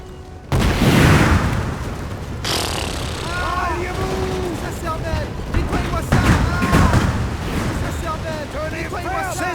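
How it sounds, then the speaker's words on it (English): Cannon fire booms on a battlefield in the video game Napoleon: Total War, with a sudden loud blast near the start and another heavy report later, amid a dense battle din, horse whinnies and shouted game voices. "Kanon, Feuer."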